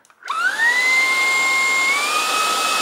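A Dreame T30 cordless stick vacuum switches on in eco mode, whirring up within a fraction of a second into a loud, steady high-pitched motor whine that holds with a slight pitch step near the end.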